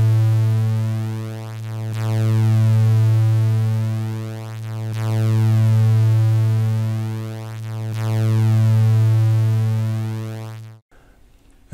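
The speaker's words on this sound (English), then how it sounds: "It was a sine wave on the left and on the right channel," Steady synthesized sine wave tones play on left and right channels slightly out of phase, a loud continuous hum whose level swells and dips slowly and regularly before cutting off abruptly near the end.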